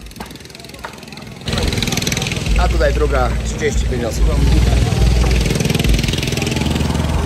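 Boat engine rumbling steadily as a passenger boat carrying about 25 people pulls away from Phi Phi Island, Thailand, loud and close after a sudden start, with people talking over it throughout.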